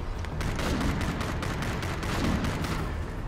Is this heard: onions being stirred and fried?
no